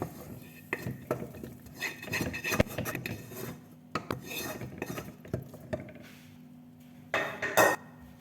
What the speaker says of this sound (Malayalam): മസാല ഇട്ട് കൊടുത്ത് നന്നായിട്ട് മിക്സ് ചെയ്യാം.